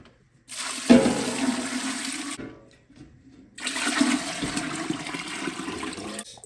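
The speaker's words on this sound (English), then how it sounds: "I'm going to add some cold water." Cold water gushes and pours steadily into a large pot of beef bones in two long bursts separated by a brief pause, loud and close.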